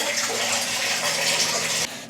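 Water pours steadily into a cooking pot on a kitchen stove, a close gushing rush that stops abruptly near the end of the short burst; no voices.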